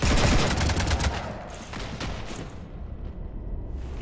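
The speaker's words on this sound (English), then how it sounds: "You want to stop shooting up my ship?" Rapid gunfire raking a ship in the Mass Effect 3 Citadel DLC, a dense, loud burst of shots in the opening second that thins into scattered bursts over a rumbling background.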